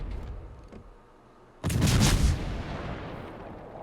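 A Kutuzov cruiser in World of Warships fires a naval gun salvo. After a quiet lead-in, one heavy, booming blast breaks out and rolls off in a long, fading rumble.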